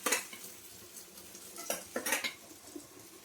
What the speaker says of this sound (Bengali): আর এখানে ভাজছি,